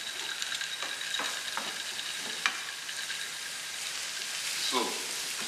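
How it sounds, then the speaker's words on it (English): Onion frying in a pan during home cooking of bhindi masala, a steady soft sizzle running throughout with faint scattered clicks, fairly quiet and without talk. "I could fry an onion."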